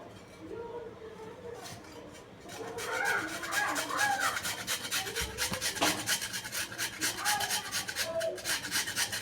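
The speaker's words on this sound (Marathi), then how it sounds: "आता याचा हा बटाटा मी याच्यामध्ये किसून टाकणार आहे" A washed potato is grated into a bowl with a close, rhythmic scraping rasp that gets louder after the first few seconds, while a voice talks over it.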